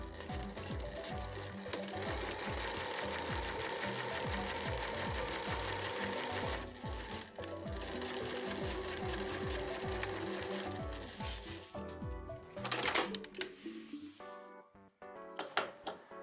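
Domestic or semi-industrial sewing machine stitching a large cotton drawstring backpack, running in long steady rapid bursts with rhythmic needle clatter, briefly pausing, then slowing to a few uneven stitches and mechanical clicks at the end.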